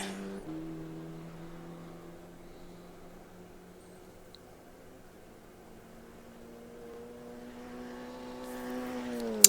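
A race car engine in the rFactor 2 racing video game hums at a steady low pitch, then revs up near the end as it accelerates, heard from outside at moderate distance.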